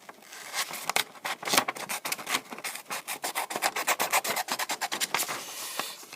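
Paper exemplar cards being cut out with scissors, producing a quick run of close, rhythmic snipping and rasping strokes with no talking.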